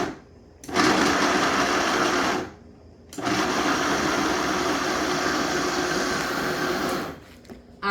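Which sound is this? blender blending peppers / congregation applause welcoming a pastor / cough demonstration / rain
blender blending peppers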